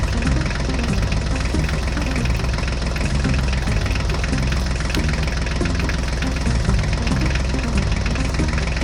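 A Ford tractor engine runs loudly and continuously, a close, rough diesel idle with a steady low knocking rhythm and vibration and no talk over it.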